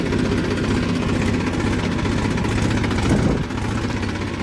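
A farm tractor engine idles close by in a steady, loud, low, rumbling, knocking drone that holds for several seconds with no voices.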